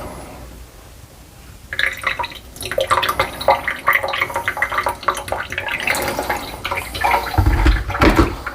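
Hot water sloshes and swirls around a pour-over coffee brewer, then splashes and trickles as it is poured out, with irregular drips and gurgles growing busier toward the end.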